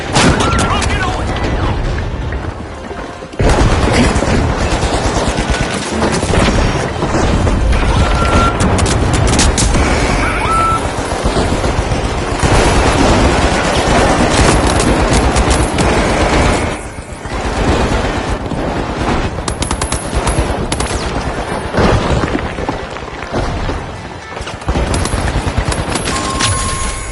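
Rocket blasts and gunfire from an arena match in The Finals, a loud, dense and continuous barrage of explosions with brief lulls, under a commentator's voice.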